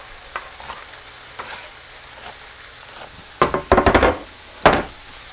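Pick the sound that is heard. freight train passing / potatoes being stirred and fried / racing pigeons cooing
potatoes being stirred and fried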